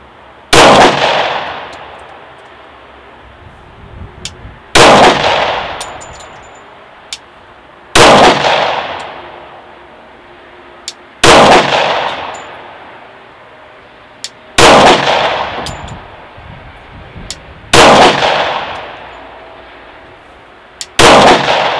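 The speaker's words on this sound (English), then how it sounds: "I'm going to be using this Gen 4 Glock 30 chambered in 45 ACP." A Gen 4 Glock 30 pistol with a 3.77 inch barrel fires Hornady Critical Duty 220 grain +P .45 ACP rounds, giving seven loud, sharp single shots about three seconds apart, each with a ringing decay.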